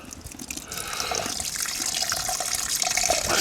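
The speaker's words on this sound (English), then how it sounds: "let's pour back some of that liquid" Liquid pours back into a bucket of pigeon mix, a steady splashing trickle close up that builds and holds, with no voices over it.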